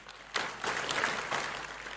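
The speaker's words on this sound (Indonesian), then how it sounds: "tepuk tangan dong" A church congregation claps together in a quick, fairly dense burst of applause with rhythmic surges, at moderate level with no talking.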